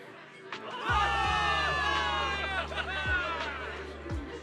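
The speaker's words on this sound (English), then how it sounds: "Give it up for yourselves, soldiers! Cheer for victory!" A crowd of soldiers cheers a victory in the Zenless Zone Zero video game, with loud, sustained massed shouting and whooping over low, steady tones that pulse a few times.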